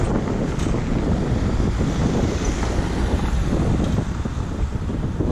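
Strong wind blows outdoors on a city street in Budapest, a continuous loud low roar buffeting the microphone with no breaks.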